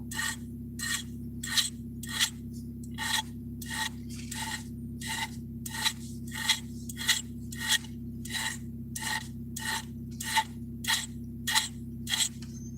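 A cheap hand file rasps across metal to deburr it, around seventeen evenly spaced strokes in a steady rhythm, close and clear over a constant low hum.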